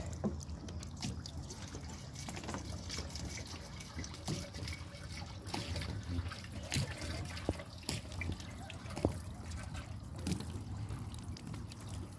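Water poured steadily into a gas-powered water pump during priming, a continuous trickling and splashing with small drips, fairly faint and close, with no talk.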